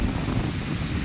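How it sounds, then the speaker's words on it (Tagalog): Strong wind blows by the sea, a dense, even rumble of gusts buffeting the microphone, with broadband rushing noise and no voices. "Medyo may alon na kasi sobrang lakas ng hangin."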